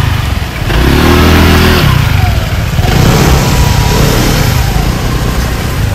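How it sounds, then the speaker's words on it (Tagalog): Motorcycle engines rumble and rev close by, one rising in pitch as it accelerates past, with steady road noise throughout. "May ano mga motor."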